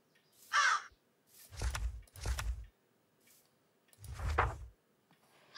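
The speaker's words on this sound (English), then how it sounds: "It's a crow." A crow in a video game animal mod caws four times, loud and close, in harsh raspy bursts separated by short quiet gaps.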